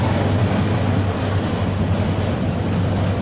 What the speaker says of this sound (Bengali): দেখতে পাচ্ছি একটি চলন্ত ট্রেন ব্রিজ দিয়ে উপর অতিক্রম করতেছে।